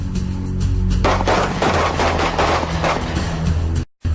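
Loud, sustained volley of SWAT team weapons firing in rapid overlapping bursts for nearly four seconds, then a sudden cutoff into brief silence.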